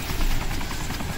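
A helicopter in the military video game Arma 2 with the DayZ mod gives a loud, steady rotor roar and engine whine, close by and continuous, with no talking over it.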